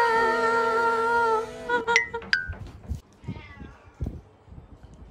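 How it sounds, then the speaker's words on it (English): Cats in a house of many pricey cats give a long sustained meow followed by a few shorter calls, close and clear, with light clinks and soft bumps afterward. "How many cats here?"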